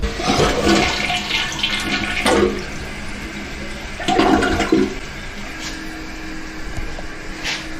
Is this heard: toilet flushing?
yes